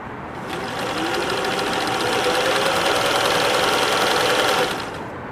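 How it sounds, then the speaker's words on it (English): A Singer 603E sewing machine runs steadily while winding a bobbin, a continuous close mechanical whir with a fine rapid buzz that starts abruptly, holds an even level for about four seconds, then cuts off. "when you're done filling your bobbin, you slide the plate forward"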